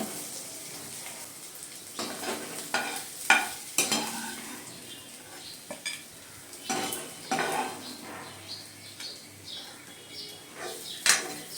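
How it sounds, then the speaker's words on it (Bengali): Bitter gourd fries in oil in a pan for a Bengali chorchori, a soft sizzle under repeated clanks and scrapes of a metal spatula against the pan, with no voices. "উচ্ছেটা পুরোপুরি ভাজা হয়ে গিয়েছে"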